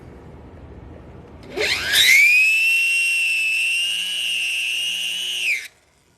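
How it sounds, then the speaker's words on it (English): A stone-shaped drill bit pushes straight down into metal to cut a stone seat, rising into a loud, sustained high whine for about four seconds before stopping sharply. "taking this drill bit that's in the shape of the stone that I'm gonna be putting in there and just pushing straight down"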